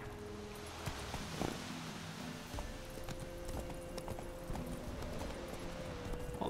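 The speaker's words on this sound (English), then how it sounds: "All this horse riding we just don't need to do." Roach the horse clip-clops along at a steady gait in The Witcher 3, hoofbeats fairly soft beneath a continuous game ambience with a low sustained tone.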